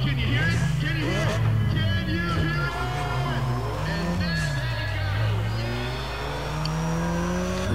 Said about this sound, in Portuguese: Boa, boa queimada de pneu.